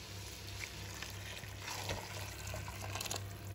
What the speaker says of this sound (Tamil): இந்த சுடு தண்ணியை தான் ஊற்ற போகிறோம்